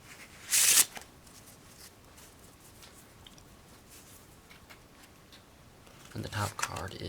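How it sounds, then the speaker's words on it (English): A quick riffle of playing cards during a card trick around the first second, then a pause with faint room noise before another burst of shuffling handling near the end. "shuffle it up a bit."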